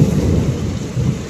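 Heavy rain pours down beneath loud, deep rumbles of thunder, a close, booming roll that swells and fades over the brief stretch.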